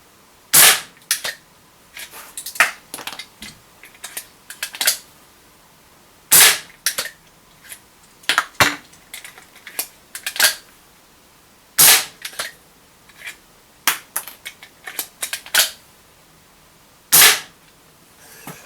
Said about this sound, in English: I'm literally just going to see how fast I can fire 4 shells